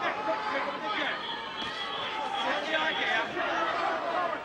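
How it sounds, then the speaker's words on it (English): A boxing crowd at a Nigel Benn versus Thulani Malinga fight fills the hall with steady murmuring and scattered whistles, a dense babble of many voices heard from a distance without a break. "Anxious whistles."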